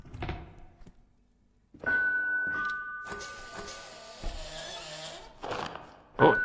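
A chime sounds in a horror video game, its tone ringing and sustained amid thumps and scattered game noises, followed by a sharper burst near the end.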